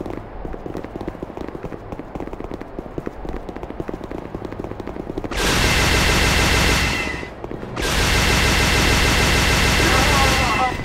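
Rapid blaster fire from Star Wars Jedi Knight II: Jedi Outcast, loud sustained bursts in two long volleys separated by a brief gap, following a stretch of quieter clattering action.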